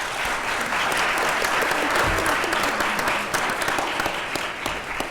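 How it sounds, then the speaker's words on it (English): An audience at a housing summit in Denver applauds a panel with steady, sustained clapping from many hands that fills the room evenly. "Let's give them a big round of applause."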